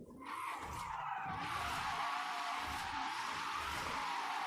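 A car drifting in Forza Horizon 5 lets out a long, steady tire squeal, sustained and fairly close, with the engine droning underneath and no voices.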